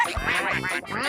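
A cartoon duck quacks in a quick run of raspy, nasal calls, close and loud, a few overlapping quacks filling about a second with no talk.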